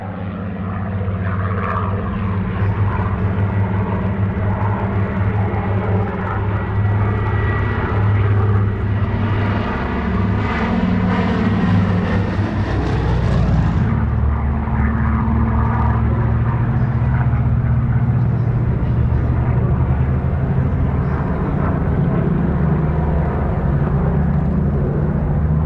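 Piston engines of a Consolidated Catalina flying boat, a loud continuous droning rumble that swells and shifts in pitch partway through, with no voices.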